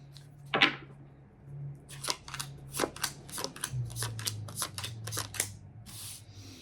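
Quick crisp riffles and flicks of cards being shuffled, a rapid series of snaps close by, with a low hum underneath.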